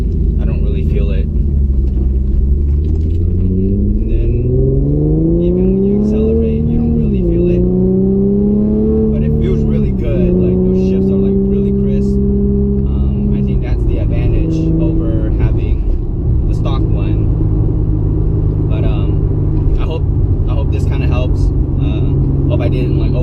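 A Nissan 370Z or Infiniti G37 with a Z1 transmission mount rolls along at about 10 mph in a low gear, its engine droning with rising and falling pitch while someone talks over it.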